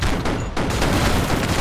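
Gunfire in the video game Broforce: a dense, loud barrage of rapid shots with a brief gap near the middle, then continuous firing.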